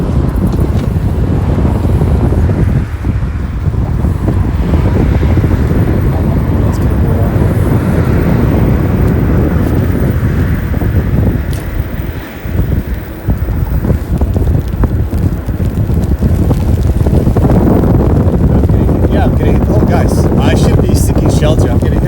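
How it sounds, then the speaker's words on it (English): Strong wind roars and buffets the microphone continuously, a dense low rumble that barely lets up, with muffled voices buried underneath. "it's too windy here"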